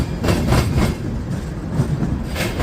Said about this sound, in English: We'll see some videos at 3 Norfolk Southern trains